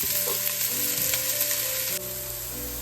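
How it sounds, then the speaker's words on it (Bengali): Onions frying in a pan while prawn chops are made, a steady close sizzle and crackle with a faint stirring scrape and a slight drop in intensity near the end, without speech. "এবার আমি পেঁয়াজটা দিয়ে এর মধ্যে পেঁয়াজটাকে ভাজতে থাকবো"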